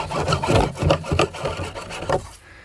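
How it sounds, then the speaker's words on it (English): A sharp hacksaw cuts off a plastic pipe nipple on a drain basin: about half a dozen quick, rhythmic rasping strokes up close, then it stops. "Take a hacksaw, good sharp hacksaw,"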